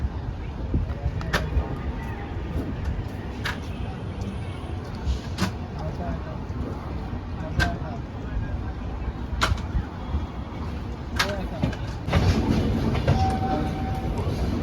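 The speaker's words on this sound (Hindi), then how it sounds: "साथियों निकल गई गाड़ी अपनी हावड़ा स्टेशन से।" The Howrah–Bangalore Duranto Express (12245) rolls out of Howrah station with a steady rumble and regular clickety-clack of wheels over rail joints. Speech runs beneath it, and the rumble swells louder near the end.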